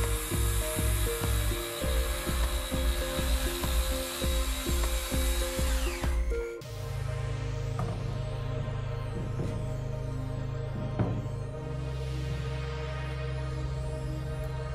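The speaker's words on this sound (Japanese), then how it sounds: "もう一回切り直すんですけど、で一発目は手前からフリーアングル当てて切って、" Carpenter's power saw recutting wood with a free-angle guide while preparing an entrance step frame, a loud continuous whirring drone, rhythmic at first, then a steadier cutting roar after about six seconds.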